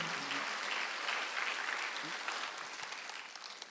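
Congregational applause at a Sunday worship service in a Korean church: a soft, continuous patter of many people clapping, even in level and tapering a little near the close.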